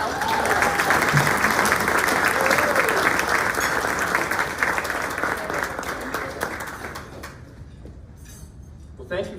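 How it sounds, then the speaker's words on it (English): A morning event audience breaks into loud, sustained applause that carries on for several seconds before thinning out, with a few faint clinks of dishes in the room. "Let's give a warm round of applause for Jessie Halberstad"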